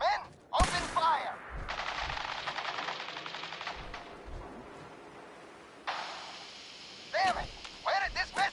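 Gunfire in the game Fallout 4: sustained rapid automatic bursts, loud and close, broken by short pauses, with shouting voices and game sounds between the volleys.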